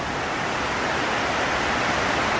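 Heavy rainwater pours into workshop drains as a dense, steady rush of broadband noise, loud and unbroken throughout with no voices.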